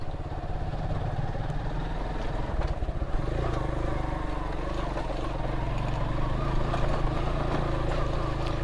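A motorcycle labours steadily up a steep hillside trail in first gear near Sreemangal, its low engine drone close and continuous throughout with no talk over it.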